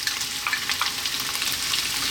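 Chopped onion hitting a hot pan of still-firm vegetables for a vegetable curry, giving an even, close sizzling hiss with faint crackles throughout the short moment.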